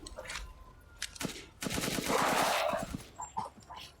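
A gun fires in the video game Resident Evil 8, a quick cluster of rapid shots in the middle of a quiet stretch, with a few faint softer sounds before and after.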